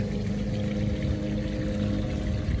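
Water from a garden hose pours steadily into the sand-filled tank of an Intex pool sand filter, a continuous close, full rushing and gurgling wash with no talk.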